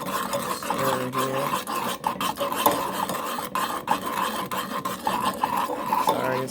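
Gummy mixture being stirred by hand with an improvised stirrer in place of a whisk, giving a loud, continuous scraping and rasping against the pot that keeps going steadily throughout, with no talking.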